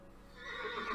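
A horse whinnies in the Western video game Cowboy Life Simulator, a single rising neigh lasting about a second, fairly close and clear with no talk over it.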